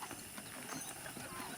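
Horse hooves clip-clop at a steady trot in the Red Dead Redemption video game, a moderately quiet rhythmic patter over soft ambient game sound.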